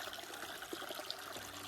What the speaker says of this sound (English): Check out this little moss-covered waterfall